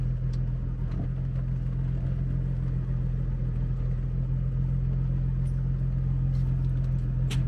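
A BMW E34 M5 engine idles smoothly and steadily, a deep, even rumble close by that holds without dips or revs throughout.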